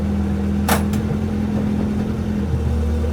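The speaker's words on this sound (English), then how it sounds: "I'm just doing a loop around the industrial estate." A Renault 5 Gordini drives a loop around an industrial estate, its engine giving a steady close droning hum from inside the car, with a brief higher rattle or click early on.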